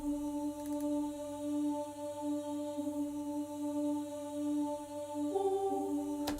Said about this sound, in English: the next thing we added was a choir